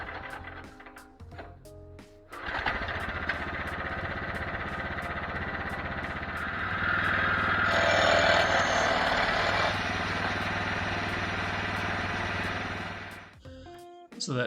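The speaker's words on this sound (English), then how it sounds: "that noise you heard is the blade engagement bar rubbing on the output shaft of the motor" Sawmill cutting a live oak log with a 7-degree blade, the blade engagement bar rubbing on the motor's output shaft: a loud, steady grinding engine drone with a raspy scraping layer that swells midway, bracketed by brief knocks and clunks at start and end.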